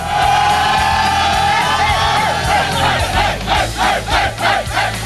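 A group of people yells together, a loud crowd whoop swelling out of a pre-concert prayer circle backstage, with rhythmic bursts of shouting toward the end and no clear speech.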